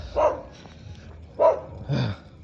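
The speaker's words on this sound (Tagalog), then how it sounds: "May aso." A dog barks three times, fairly close, with short gaps between the barks and no talking.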